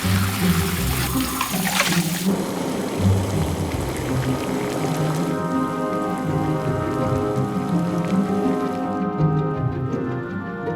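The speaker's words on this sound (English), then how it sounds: "millions of toilets will flush in near unison" Toilets flush in a Chinese city, a loud rushing swirl of water that drains down into a gurgling, trickling refill, steady and close throughout.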